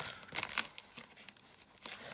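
Close paper crinkling and tearing with sharp ripping bursts, like tape being pulled off an envelope, busy and uneven throughout.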